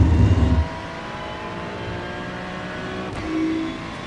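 Ferrari 296 GT3 race car in the iRacing simulator at Road America, its engine note held as a steady drone under acceleration after a louder rumble at the start, with a brief rising tone near the end.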